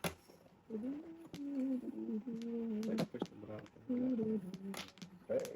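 Soft, low cooing calls from a bird repeating in short phrases, close by, with scattered clicks and taps between them.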